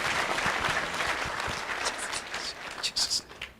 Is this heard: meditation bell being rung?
no